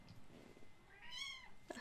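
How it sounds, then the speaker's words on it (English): A domestic cat gives a single rising-and-falling meow near the end, clear and fairly close, following quiet room noise. "My cat."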